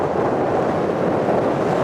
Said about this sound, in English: It's very, very windy out there.